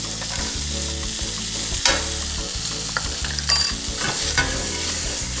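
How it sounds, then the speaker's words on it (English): Brussels sprouts and nuts fry in a hot pan, a steady close sizzle with repeated scraping stirs and tossing clatters across the whole stretch. "See, the pan is nice and hot, caramelizing quick."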